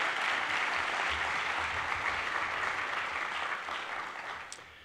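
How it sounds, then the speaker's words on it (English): Applause from the audience at an award ceremony honoring students, a broad, steady wash of clapping that gradually fades toward the end. "Let's give them a round of applause for that great work."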